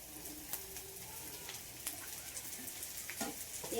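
Sliced okra fries with potato in a pan, a soft continuous sizzle broken by light scraping stirs and occasional taps of the spatula, fairly quiet and close.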